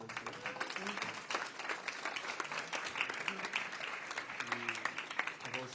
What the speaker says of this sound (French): on va commencer par l'applaudir